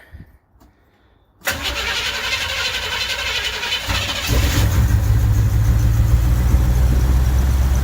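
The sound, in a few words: 1971 Chevrolet El Camino engine cranking and starting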